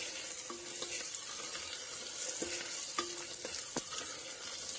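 Tomatoes with salt stirred in a hot pan, a constant hiss of frying under repeated light scraping strokes and a few sharp spoon taps against the pan, close by with no talking.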